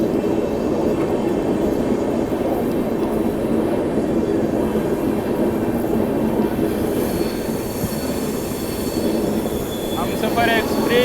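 Indian express train Shiv Ganga SF Express running at speed beside another train on a parallel track, a loud continuous rumble of wheels and carriages with faint squealing and rattling throughout.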